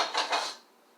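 A pan is taken out for a sauce: a couple of quick metallic clanks and scrapes of cookware close by, then quiet, with a small tap at the end.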